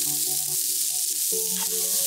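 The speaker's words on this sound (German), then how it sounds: "Und jetzt müssen wir zweimal frittieren" Shrimp deep-frying in hot oil, a steady close hiss of bubbling with no voices.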